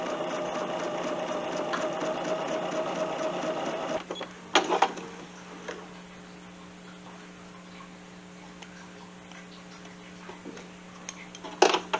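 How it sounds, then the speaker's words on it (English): A Bernina sewing machine runs steadily on a quilt block seam, then stops, leaving faint ticks and small handling clicks over a low background hum. "And we'll go ahead and finish sewing this line"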